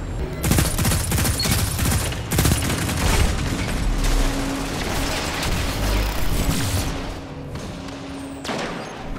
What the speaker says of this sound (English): That grenade was not supposed to go that way.